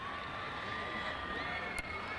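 Edison High School fans in Huntington Beach cheer at a football game against Fountain Valley, a steady distant crowd roar with whoops, faint and continuous.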